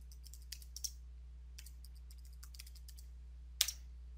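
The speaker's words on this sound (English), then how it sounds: "And I'll type in a password." Password typed on a computer keyboard during an Ubuntu Server 14.04 install: sparse, quiet keystrokes over a faint hum, ending in one sharper, louder key press.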